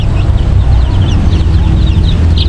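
A Rhode Island hen clucks steadily at close range in a backyard farm setting, with a dense low rumble and thin high peeps from her chicks scattered throughout.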